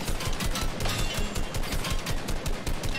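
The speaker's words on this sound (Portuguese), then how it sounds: "Um tiro por todo lugar" Rapid, dense gunfire in the game Fortnite, bursts of automatic shots and cracks piling together without pause, loud and close, with a rumbling low thud beneath.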